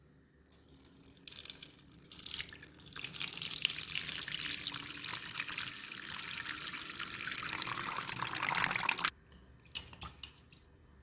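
Tap water runs at close range as something is washed and cleaned before making soft kinnathappam, a steady rushing spray starting after a brief pause, then stopping abruptly near the end, leaving faint drips and handling noises.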